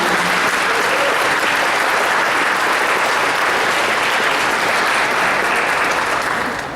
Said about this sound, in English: One final round of applause for our honorees from School 7.